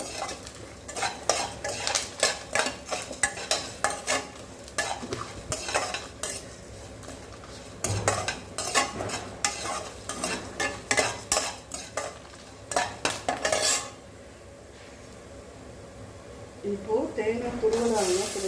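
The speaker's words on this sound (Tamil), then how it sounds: "கருவேப்பில்லை நல்லா கலர் சேஞ்ச் ஆகிற வரைக்கும் நம்ம வறுத்து எடுத்துக்கலாம்" Curry leaves fry in ghee for a bitter gourd pitlai while a spoon scrapes and stirs the pan in quick repeated strokes over a steady hiss. The stirring stops near the end, leaving a quieter sizzle, then a voice briefly speaks.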